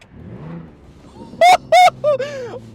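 An abandoned BMW E46 under repair sits at a low, uneven rumble, then gives two loud, sharp revs in quick succession followed by a third, shorter blip as the engine settles back down.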